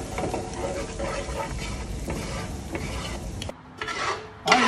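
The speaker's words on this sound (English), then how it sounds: "Making that roux." Flour roux for gumbo being stirred in a pot, giving a close, continuous rasping scrape with steady rubbing strokes that drop out briefly near the end.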